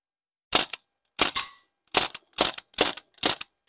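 A CO2-powered MP40 airsoft gun fires six sharp, snappy shots in irregular spacing, some as quick doubled pops, loud and close with silence between.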